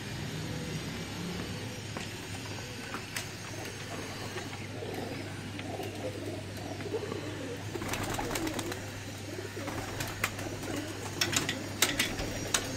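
Pigeons coo softly in a loft while a pigeon keeper moves chicks between cages, with scattered clicks and rattles of cage wire over a low steady hum.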